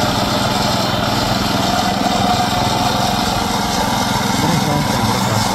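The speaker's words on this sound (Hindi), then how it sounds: "ये वाली मशीन पेवर कर रही है।" A paver construction machine runs steadily at close range with a continuous droning engine and mechanical rumble throughout, with no pause in the sound.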